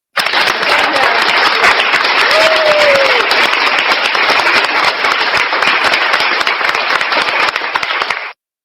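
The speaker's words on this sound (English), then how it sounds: "Give that man a round of applause" Sustained applause from a crowd, dense and loud, running steadily for about eight seconds before stopping abruptly.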